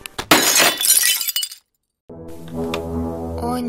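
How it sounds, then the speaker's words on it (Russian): Porcelain vase shattering on a floor: a loud, bright crash of breaking glassy shards with scattered clinks, cut off by a short silence before low sustained music begins. "Мой Китай в осколках на полу!"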